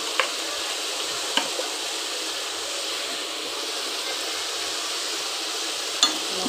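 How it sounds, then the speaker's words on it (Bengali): Spices for a fish egg curry fry in a pan with a steady, loud hiss and sizzle, punctuated by a few light scrapes and knocks from stirring. "মশলাটাকে বেশ করে নাড়াচাড়া করতে হবে।"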